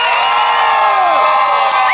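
A resort crowd at a dance show in Cancun yells and whoops for the second dancer, loud and sustained, with sharp rising shouts near the end.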